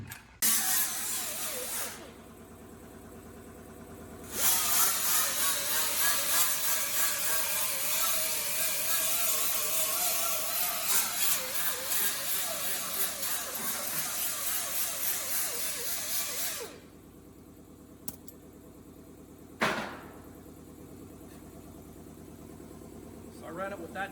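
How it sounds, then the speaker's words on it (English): A flap sander disc, 36 grit, grinds a metal panel in a metal shaping shop. The roar is loud, steady and close, lasting about twelve seconds, and a short second burst follows later. "this is the flapper sander disc"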